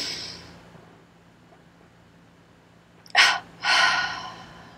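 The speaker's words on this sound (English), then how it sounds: "Throw the breath out and relax." Two forceful exhaled breaths are pushed out during a breathing exercise, heard close and loud after a quiet stretch, the second longer and trailing off, with no talking.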